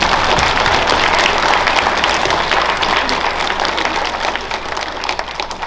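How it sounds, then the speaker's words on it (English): Students at a school Veterans Day program give their parents a loud round of applause, a dense continuous clapping from a large indoor crowd that stays strong and tapers slightly toward the end. "can I hear a round of applause from my students for our parents?"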